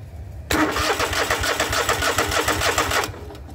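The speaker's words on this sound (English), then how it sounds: "Now we're back in business and our engine is turning" A John Deere engine cranks over steadily for about two and a half seconds after its starter is jumped with a battery lead, giving a loud, rhythmic churning close by, then it cuts off.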